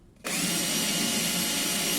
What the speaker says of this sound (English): because we want to drill in the middle